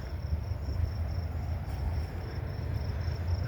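Insects trill steadily at a campsite on the bank of the Missouri River, a constant high chirping over a low, rumbling background, with no voices.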